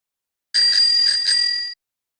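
Bell sound effect played on a stream: a bright bicycle-style bell ringing with a few quick repeated strikes over a sustained metallic tone, loud and alone, lasting just over a second before stopping abruptly.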